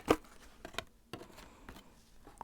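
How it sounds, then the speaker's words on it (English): A few quick papery riffles and flicks of tarot cards being shuffled, soft and close, with brief pauses between bursts. "I'm going to shuffle."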